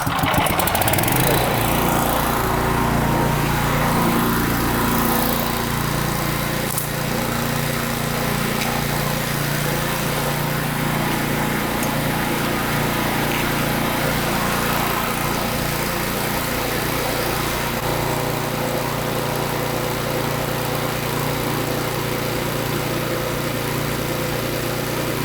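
A gas-powered Stallion pressure washer engine runs steadily, a loud, continuous small-engine drone with no pauses or changes in pitch, heard alone throughout.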